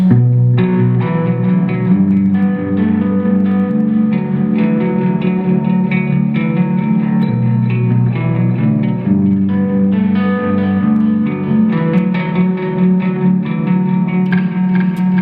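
An electric guitar plays the repeating intro lead riff of a song with heavy effects and echo, bright and sustained, steady in volume from start to finish.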